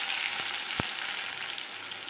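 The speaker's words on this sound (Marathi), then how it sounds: "त्याच कढईत थोडंसं आणि थोडंसं तेल घालायचं, त्यात टाकायचं मोहरी, जिरं" Mustard seeds, cumin and garlic fry in a little oil in a kadhai, giving a steady close hissing sizzle with a couple of sharp pops from the seeds.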